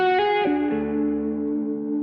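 Electric guitar played through stacked gain pedals with the compressor switched off: a few distorted notes struck in quick succession, then a saturated chord ringing out loud and sustained with a faint chorus-like shimmer.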